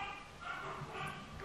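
Several dogs barking and yipping indoors at a meter reader outside, a faint, continuous excited clamor with some whimpering, heard from a distance.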